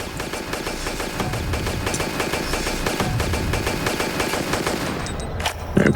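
Rapid gunfire in a Tomb Raider boss fight, pistols firing in a fast, continuous stream of evenly spaced loud shots across the whole stretch, with a heavier burst at the end.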